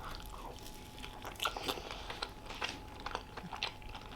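Close-up crunchy bites and chewing of a burger with pickles, a series of faint crisp crunches and moist mouth sounds with no talking.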